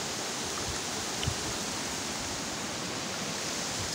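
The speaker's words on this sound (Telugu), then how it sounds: "complete water falls and jungle" Steady, dense roar of a jungle waterfall, continuous broadband rushing water heard alone with no talk, even and unbroken from start to finish.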